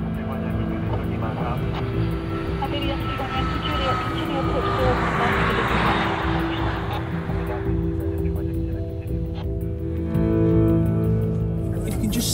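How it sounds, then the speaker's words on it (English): An airliner comes in to land at Heathrow Airport, its engine drone swelling into a broad roar midway and then easing, heard from near the runway over a constant low rumble. "there will be aircraft coming into land still"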